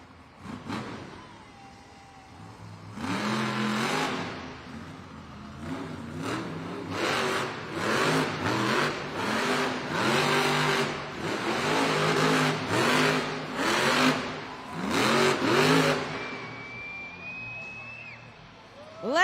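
Monster truck engine at a Monster Jam arena event, loud repeated revs surging and dropping in rapid bursts for most of the run, echoing through the arena, then fading near the end.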